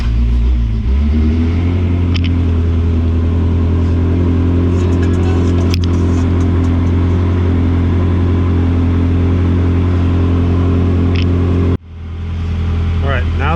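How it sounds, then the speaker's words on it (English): A Ferrari 360 Modena engine cranks and catches almost at once, then settles into a deep, steady idle that holds loud and close for most of the stretch. Near the end it briefly cuts out and returns. "Let's go ahead and start this car."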